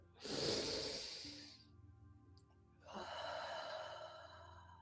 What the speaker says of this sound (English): Let's do this breathing thing again.